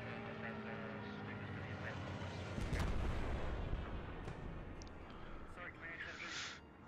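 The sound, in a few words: Stuka dive bomber bombing run in video game Post Scriptum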